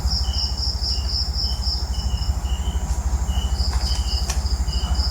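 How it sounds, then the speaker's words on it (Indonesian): Crickets chirp steadily outdoors at night near an old abandoned house in Malaysia, a continuous close high trilling with regular pulsing chirps over a low droning hum, no voices. "Kalau suara-suara jangkrik"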